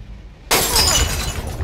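A glass sippy bottle shatters in the horror video game Among The Sleep, a sudden loud crash breaking out of near silence and trailing into a bright, scattering rain of glass fragments.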